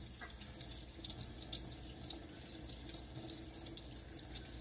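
Tap water runs steadily into a kitchen sink to rinse Tupperware cookware, a continuous close splashing hiss with no talking.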